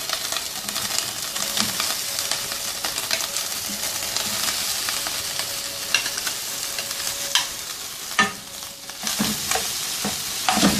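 Mashed potatoes for an aloo kachori filling sizzle and fry in a pan, with steady crackling and occasional scraping stirs throughout and no talking.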